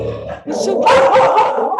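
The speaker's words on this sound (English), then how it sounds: "That's my dog." A pet dog named Yoshi barks and yips briefly indoors, close by, interrupting a woman's calm spoken reassurance; the barks are short and mixed under her talking.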